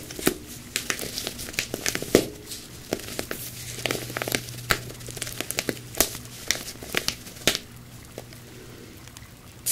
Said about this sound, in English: I got you a nice new bag of those Epsom salts that you love.